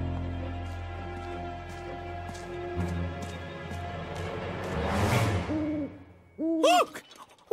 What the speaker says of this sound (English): No, that's just an owl, Lofty.